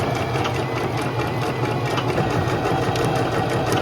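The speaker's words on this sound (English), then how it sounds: "I'm going to lower my stitch length to a 1, and then I'm going to move it to a zigzag stitch" Sewing machine running steadily through a zigzag stitch at a short stitch length along a garment hem edge, a loud, continuous close-up whir with fast rhythmic needle clatter and no talking.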